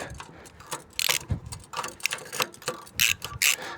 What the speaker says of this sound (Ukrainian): Одягаю цей ключ, о, відпускаю цей болт.